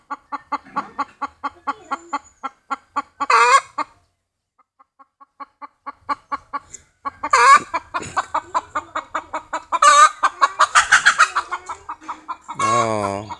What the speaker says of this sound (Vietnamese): Cộc tác, gà đang cộc tác.